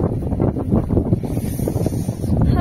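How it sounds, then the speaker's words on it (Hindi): Strong wind blows in the hills, buffeting the microphone in a continuous, loud, low rumble with no speech. "हाय क्या हवा चल रही है, वाह बहुत अच्छा लग रहा है इधर।"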